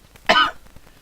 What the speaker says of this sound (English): that would explain all the coughing.